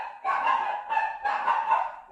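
A dog barks and yelps in a rapid run of three or four sharp, strained barks, close by, with no talking.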